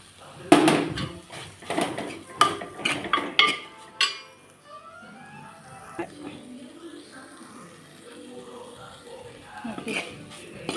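Gooseberries and asafoetida powder clatter into a pan of frying chillies for homemade Kerala gooseberry pickle, a burst of metallic clinks and tapping followed by soft sizzling under a speaking voice.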